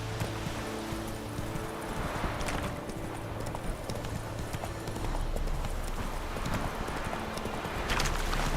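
Horse hooves clip-clop at a galloping pace in The Witcher 3, a steady close rhythm of hoofbeats continuing throughout over game background sound.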